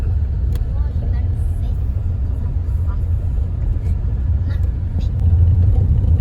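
A car rumbles along a rough, bumpy road beside quarry trucks in the Gaspésie countryside of Quebec, with a steady low engine and road drone that swells slightly toward the end.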